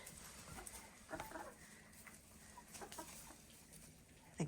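Chickens of several breeds, including olive eggers, buff Orpingtons, Americanas and Australorps, along with a rooster, cluck softly in short scattered bursts on a winter farm, faint and with no talk.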